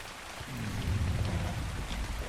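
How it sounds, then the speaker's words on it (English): Video game rain pouring steadily on surfaces with a low rumble of thunder beneath it, a continuous close wash of sound with no talking, in the Crag area of a dinosaur survival game. "And it's raining."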